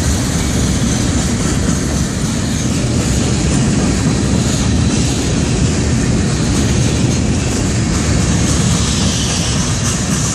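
Florida East Coast Railway freight cars, including an old boxcar, roll past close by with a loud, continuous rumble and rushing wheel noise that holds steady from start to finish.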